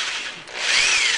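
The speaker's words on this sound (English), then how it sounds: "I'm using the actual 3-inch hole saw. And this is what I'll use to drill through the acrylic sheet" A 3-inch hole saw drills through an acrylic sheet with a steady, close, harsh grinding whine that briefly dips before rising in pitch and intensity, heard alone.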